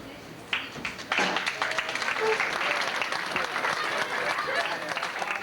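Applause from an audience at a 90th birthday and 64th anniversary celebration, a dense wash of many hands clapping steadily after an opening clap or two, with speech running over it.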